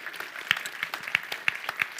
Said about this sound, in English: please give Eve a round of applause